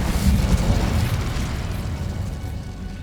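Incendio fire spell cast in Hogwarts Legacy, a loud, dense roaring burst that stays fairly steady for about three seconds with no talk.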